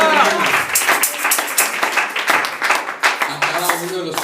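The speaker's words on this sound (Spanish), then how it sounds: "Palmas al Señor por la bienvenida." A church congregation claps together in a fast, steady rhythm, loud and close, with a voice speaking over the clapping.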